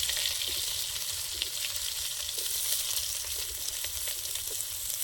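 Chopped onion with five-spice seeds frying in a little leftover fish-frying oil, a steady close hiss of sizzling that runs the whole time with small crackles, no voices.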